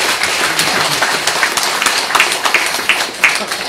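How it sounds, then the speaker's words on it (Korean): Audience clapping at a Korean book launch event, loud and close, a thick continuous round of applause with individual claps standing out sharply, no words spoken. "여러분 큰 박수 한번 부탁드리시죠."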